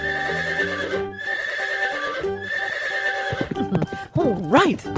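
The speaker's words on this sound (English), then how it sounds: "Horse." A horse in a 3D animal video game whinnies loudly and shrilly in rising and falling bursts near the end, following a stretch of steady, tuneful game music.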